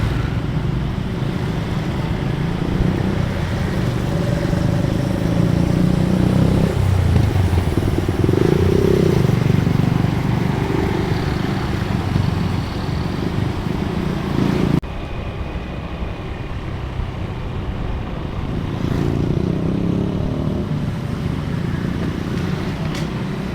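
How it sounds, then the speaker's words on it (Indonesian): A truck rolls past on a road in Indonesia, heard as a steady loud rumble of engine and road noise that swells and eases over about twenty seconds, with no talking. "Ini ada truk lagi yang lewat."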